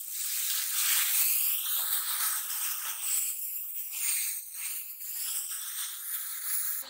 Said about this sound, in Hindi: साथ ही अब इसमें थोड़ा सा पानी शामिल करेंगे।